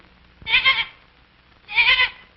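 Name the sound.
goats bleating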